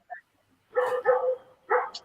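A dog gives three short, close barks, two in quick succession and then one more after a brief pause.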